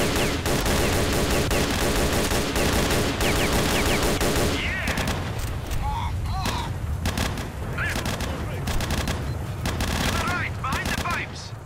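Gunfire in the video game S.T.A.L.K.E.R. Shadow of Chernobyl, loud rapid automatic bursts dense at first, then scattered shots and echoing reports over ambient game noise.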